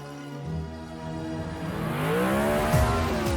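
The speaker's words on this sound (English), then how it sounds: "You can't just drive your car into a tree to get to another place in the world." A car engine in the Descendants 4 film as it drives into a tree: the engine revs up and rises in pitch, with a brief tire squeal near the end.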